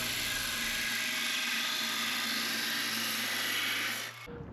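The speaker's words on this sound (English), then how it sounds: "Use the sander to contour it a bit." A power sander works a heated plastic sheet while repairing a Saturn Sky roadster, giving a loud, steady whirring drone that holds for about four seconds and then cuts off.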